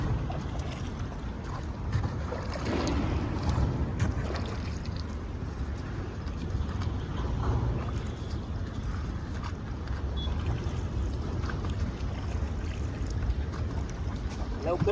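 A small fishing boat on open water, moving by hand oars, with steady wash and splashing under constant wind noise and occasional voices throughout.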